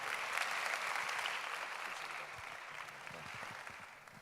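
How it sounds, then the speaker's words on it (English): An audience at a Memphis mayoral forum claps, steady dense applause heard from a distance, fairly faint and continuous over a room hum. "Clap your hands and receive him as he comes."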